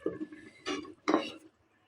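A lid goes onto a cooking pot of simmering curry, three short metallic clatters in quick succession, close and fairly faint, ending in near silence.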